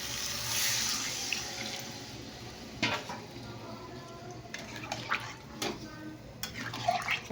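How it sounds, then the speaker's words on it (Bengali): Water splashes and gurgles into a cooking pot in a home kitchen, close and soft, with a few brief clinks of metal utensils. "এবার জল দিয়ে দেবো।"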